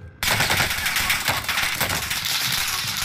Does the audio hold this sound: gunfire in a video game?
yes